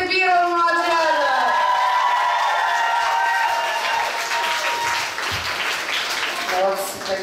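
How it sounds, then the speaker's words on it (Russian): An audience claps loudly and steadily for the first squad at a large summer-camp contest, with voices and cheers rising over the applause before it fades slightly near the end. "Еще раз аплодисменты первому отряду."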